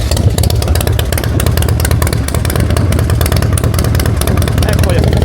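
A carburetted motorcycle engine with an accelerator pump on the carburettor runs loud and close throughout, a steady dense engine roar with revving under it.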